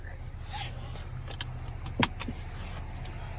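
Inside a 2021 Acura RDX SH-AWD, a seatbelt latches with one sharp, close click over a low, steady cabin hum.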